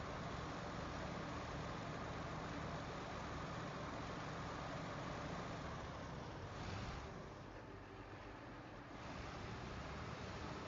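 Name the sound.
loud truck engine in the video game SnowRunner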